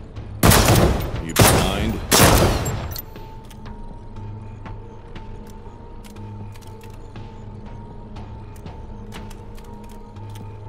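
Gunfire from a firearm in the video game Defector: three loud, sharp shots in quick succession, then quieter mechanical ticks and clicks, with a brief spoken line near the start.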